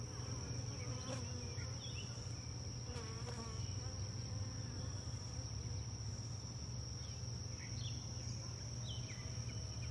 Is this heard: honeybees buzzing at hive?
yes